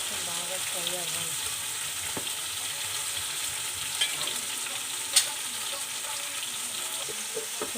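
Cauliflower and potato pieces fry in a pan with a steady, even sizzle and crackle throughout, broken by a few soft clicks of stirring, with no talking.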